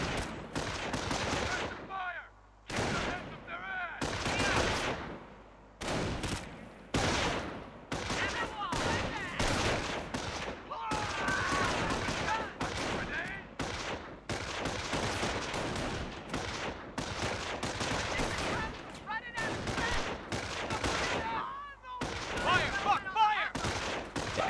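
Squads attacking in Company of Heroes, a long stretch of repeated gunfire with machine-gun bursts and heavier blasts in irregular clusters, separated by short gaps, with occasional voices in the mix.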